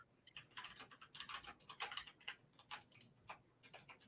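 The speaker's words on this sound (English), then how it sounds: "I'm typing and I know it's loud." Rapid, uneven clicking of keys on a computer keyboard, close and fairly quiet, with no voices.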